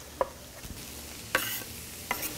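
Mushrooms and vegetables sautéing in truffle oil in a pan, a quiet low sizzle broken by three brief, sharp spatula scrapes spaced evenly apart, with no talking.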